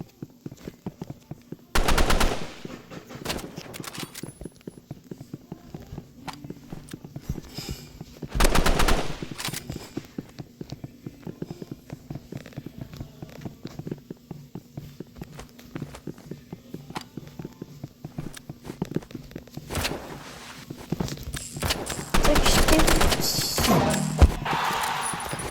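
Gunfire in the video game Rivals: sharp bursts of rapid automatic fire recur several times over a steady backdrop of footsteps and game noise, fairly loud in the mix.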